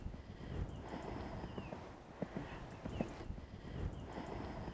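Hooves of a young horse cantering in a riding arena thud in a soft, regular rhythm, muffled and somewhat distant under wind-like ambient noise.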